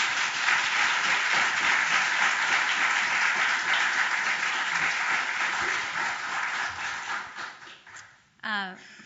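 Sustained audience applause at a university lecture, dense steady clapping from a full hall welcoming the Fuchs lecturer, fading out near the end.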